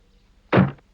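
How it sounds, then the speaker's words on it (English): A cottage door bangs shut once, a single loud, close slam with a short ringing tail, heard alone. "Bang went the door of Crosspatch Cottage as Mr. Grumpy slammed it behind him."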